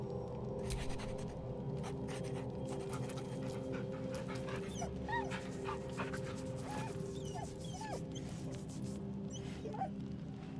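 A dog in a video game pants steadily and whimpers now and then over a constant hum of background music and ambience, with no clear speech.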